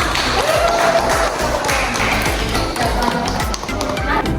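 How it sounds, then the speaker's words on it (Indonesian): A classroom group of students applauds together, a dense, steady patter of many hands clapping at once that fills the whole stretch without pause or talk. "Yuk beri aplaus untuk kita semua"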